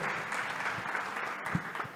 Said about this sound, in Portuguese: Uma calorosa salva de palmas aos patrocinadores, às empresas, às personalidades, às pessoas,